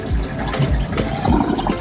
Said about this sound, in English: And I'm pouring the first water.